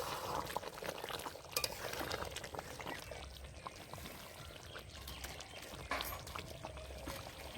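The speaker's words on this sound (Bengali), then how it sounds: "উপর দিয়ে একটু ঘি দিয়ে দেব ঘিটা দিয়ে একটু নেড়ে নেবো" Ghee poured over a jackfruit chicken curry in a pan, then stirred, giving a steady close sizzle and liquid hiss with scraping and stirring noises throughout, no talking.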